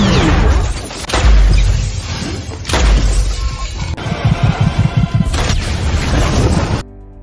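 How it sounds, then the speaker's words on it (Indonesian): Film shootout with gunfire: a string of loud, sharp crashing bangs and impacts recurring every second or so, with a rapid burst of shots in the middle, then a sudden cutoff. "Kemudian baku tembak pun antara Fox dan Cross pun terjadi"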